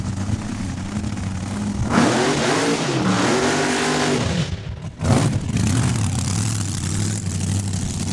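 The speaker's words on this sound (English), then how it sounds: "All right, you can hear that blower. Yes, they got her fired up once again." A supercharged dragster engine with a roaring blower revs hard at a drag strip, loud and close, surging through repeated throttle blips with a brief dip before rising again.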